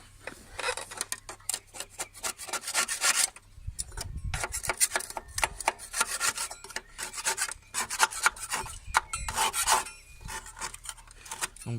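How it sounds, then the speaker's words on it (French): Scraping on the aluminium deck of a Honda HR-21 GV150 lawnmower, with close, repeated rasping strokes in uneven bursts and short pauses between them. "Et puis on va venir gratter un petit peu la tondeuse."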